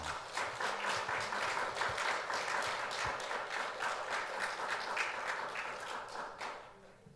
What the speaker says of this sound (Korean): 자, 그러면 우리 서른경 강사님을 힘찬 박수로 모시도록 하겠습니다.